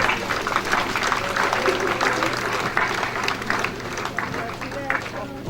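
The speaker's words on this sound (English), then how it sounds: "Let us clap for our Lord Jesus Christ" Congregation in a church applauding during an abbatial blessing ceremony, a steady wash of clapping with crowd murmur and voices underneath throughout.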